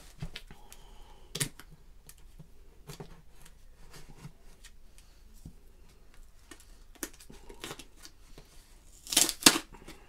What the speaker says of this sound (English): So let's cut this guy open and see what we have here.